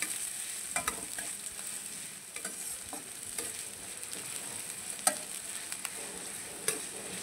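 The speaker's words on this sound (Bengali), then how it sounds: "পেঁয়াজগুলো হালকা লাল লাল করে ভেজে নেব" Chopped onions fry in a pan with whole cumin until lightly browned, cooked for egg kofta curry. A faint, even sizzle continues throughout, broken by occasional soft stirring clicks.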